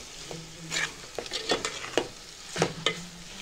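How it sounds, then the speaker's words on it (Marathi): Masala being stirred and sautéed in a pan for chicken keema, with repeated scraping strokes of a spatula against the pan bottom over a soft sizzle, close and clear with no talking. "छानपैकी आता आपला हा मसाला परतला गेला आहे."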